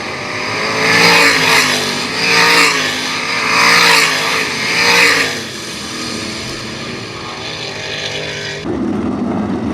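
Race cars at Attica Raceway Park roar past at the end of a heat race. Loud engine passes swell and fade in repeated waves, then the sound settles into a steadier, more distant drone.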